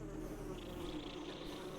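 Buzzing of war wasps in Metroid Prime Remastered, a steady insect drone that holds for about two seconds at moderate level with no voices over it.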